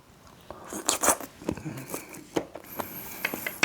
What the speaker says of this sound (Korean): 새우 먹을게요.